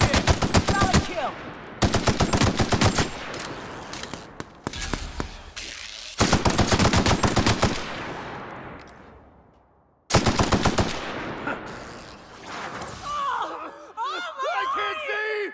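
Video game gunfire in a firefight in The Outer Worlds: loud bursts of rapid machine-gun fire in several long volleys separated by decaying echoes and short pauses, with garbled voices near the end.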